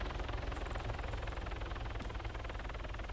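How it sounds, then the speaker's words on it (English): A helicopter lands in a military video game, giving a steady, droning engine and rotor rumble that stays level and fairly loud, with no talk over it. "we got an unidentified helicopter in the AO"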